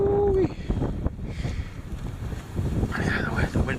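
Strong winter wind buffets the microphone in heavy, rumbling gusts at a hammock campsite, with a brief tonal whine at the start and faint voices under the roar.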